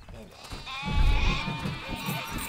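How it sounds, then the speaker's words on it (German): Sheep bleat in the video game Overlord, several wavering calls in a row at moderate loudness, mixed with game sounds and a voice speaking. "Ich höre niedere Kreaturen blöken"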